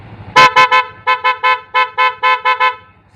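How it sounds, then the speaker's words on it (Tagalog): Stock horn of a Yamaha NMAX scooter honking in a rapid series of about eleven short, loud, close beeps, with no talk. "Horn."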